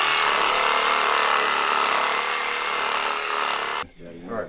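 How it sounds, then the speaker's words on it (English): A Sawzall reciprocating saw runs loud and steady while cutting through a deer carcass during field butchering, then stops abruptly near the end, when a brief voice follows. "Did we find a nice blade for that Sawzall, Mike?"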